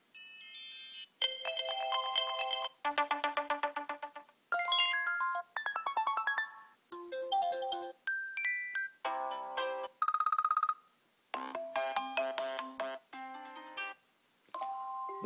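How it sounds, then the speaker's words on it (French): A rapid sequence of iOS 7 iPhone ringtones plays one after another, each a short, clean electronic melody of chimes, bells and marimba-like notes, loud and alone with brief gaps between them. "sonnerie d'appel par défaut est ouverture"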